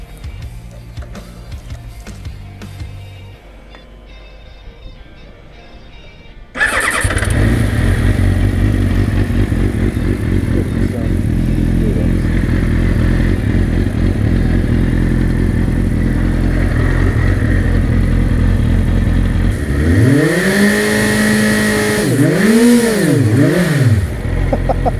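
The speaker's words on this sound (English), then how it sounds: "actually try and see if I could do a burnout" A 600cc sportbike bursts into a loud, sustained roar for a burnout after a quieter idle, the engine held at high revs with a steady grinding hiss, then sharply revved up and down several times near the end.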